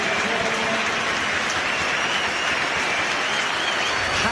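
Dense, roaring applause from a football stadium crowd at Derby County versus Nottingham Forest as a player is substituted, loud and continuous like heavy rain.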